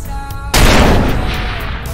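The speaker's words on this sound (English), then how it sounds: "Take a human and you take a beam rifle." A beam rifle fires in the physics sandbox video game People Playground, a sudden loud blast that cuts in after quiet tones and leaves a long, dense rumbling roar that slowly fades.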